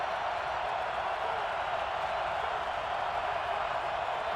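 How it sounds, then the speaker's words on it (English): Stadium crowd roaring at a college football game between Tennessee and Kentucky, a dense, steady wall of cheering that holds at even loudness from start to finish with no pauses. "Crowd is on their feet."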